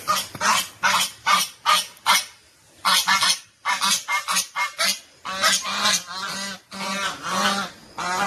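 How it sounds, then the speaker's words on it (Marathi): Two white female ducks honking loudly and repeatedly from close range, harsh goose-like calls in rapid bursts with short pauses between them. "व्हाईट बदक."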